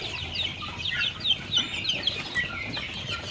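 Young chicks in a poultry shed clucking and peeping, a busy chorus of many high, overlapping chirps with brief louder calls, steady throughout with no talk.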